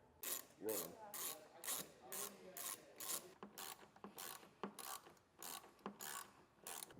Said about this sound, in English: To remove our headlight, 10mm head bolt here and one right there.